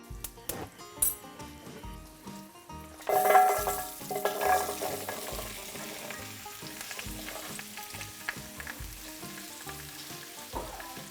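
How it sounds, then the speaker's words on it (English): Vegetables frying in a pan over medium heat, a loud burst of sizzling as they hit the oil, then a steady crackle with occasional stirring scrapes. "I'm gonna throw my vegetables in and then just let them cook over probably like a medium heat"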